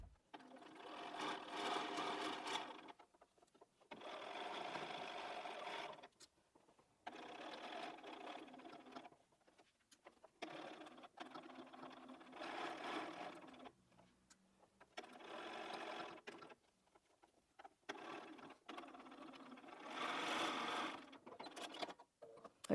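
A sewing machine stitches the final seam of a LeMoyne Star quilt block, running in close, loud bursts of rapid mechanical whirring separated by short pauses, repeated about seven times.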